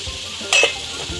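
Mustard dal and garlic hitting very hot oil for a Maharashtrian raw mango pickle, giving a short bright sizzle that flares for an instant and then settles back to a low background hiss.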